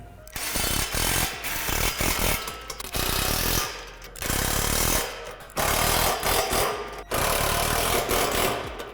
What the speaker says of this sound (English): Now tighten up the hardware from the slide rail as well as the hardware from the previous step.